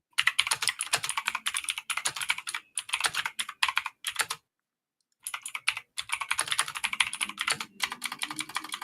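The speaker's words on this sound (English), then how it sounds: "I'm literally typing out bottom feeder right now" Rapid typing on a computer keyboard comes in close, dense bursts of clicking, with a pause of about a second partway through before the keystrokes resume, and no voice over it.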